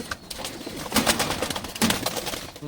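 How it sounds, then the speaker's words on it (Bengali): Fancy pigeons at a home breeding loft, likely Moyurponkhi and Madrasi birds, give soft repeated cooing close by, with two louder coo bursts and a faint rustle and chatter behind them. "দেখুন মাদি কবুতরটা দেখুন, খুব সুন্দর"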